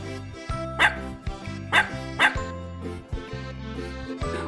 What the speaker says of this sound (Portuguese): É um cão conhecido por diferentes nomes, como boiadeiro de Berna e boiadeiro bernês e Bernese Mountain Dog em outros países.